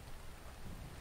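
Steady video game rain hisses in the background, a dense, even wash of drops with a low rumble underneath and no voices.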